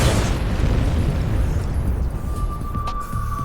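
An explosion in the video game Metal Gear Solid 2 rolls out as a loud, broad rumbling blast that fades slowly over a few seconds, heard alone.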